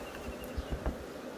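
Honeybees at a beehive holding three queens, a soft steady buzzing hum filling the background with a few faint low thumps, no voices.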